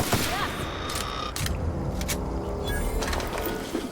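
Game combat in The Outer Worlds: a dense burst of blasts and gunfire around an exploding barrel near police robots, loud and sustained with sharp bangs throughout, and voices under the noise.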